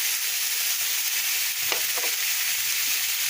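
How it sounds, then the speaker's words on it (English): Food seasoned with garlic powder, oregano, pepper and salt sizzles steadily in a pan, a loud continuous hiss with a few soft stirring scrapes near the middle and no talking. "And just let it cook until it's at your liking."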